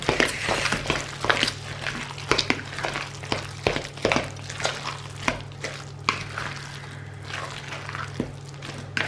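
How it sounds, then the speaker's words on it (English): A fork mixes baked bean bite mixture with egg in a bowl, giving close, irregular scraping clicks and wet knocks over a faint steady low hum, with no talking. "I'm going to combine this all together. So give it a really good mix. Make sure the egg is well mixed in."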